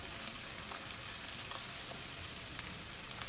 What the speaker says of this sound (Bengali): পেঁয়াজ কুচিটা একটু ভেজে নিয়ে তাতে রসুন বাটা, আদা বাটা